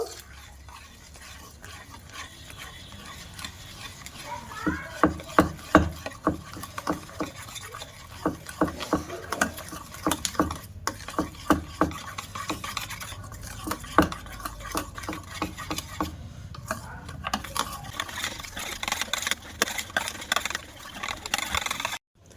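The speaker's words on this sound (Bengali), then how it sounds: "দিয়ে এবার আমি একটা ব্যাটার বানিয়ে নেব" Malpua batter mixed with orange juice is whisked in a bowl, a soft run of quick rhythmic spoon taps and scrapes that grows busier midway, close and fairly quiet with no talk.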